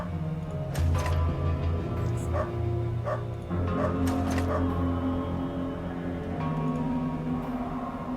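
A dog in the UnderRail game barks and yips repeatedly over a steady droning ambient hum, the barks coming in short irregular bursts at moderate distance.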